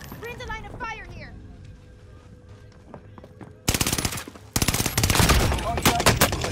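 Game voices and quiet effects give way to sudden loud, rapid machine-gun bursts from Modern Warfare, sharp repeated shots dominating the last few seconds with speech-like chatter mixed in.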